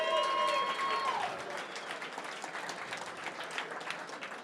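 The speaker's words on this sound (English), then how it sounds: "Can we get a round of applause?" A startup meetup audience claps after the host welcomes the crowd, the applause rising from a brief high whistle-like tone and continuing as loose, moderate clapping and crowd noise.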